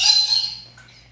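A pet parrot lets out a loud, shrill squawk up close, followed by a shorter, softer call, with no talking.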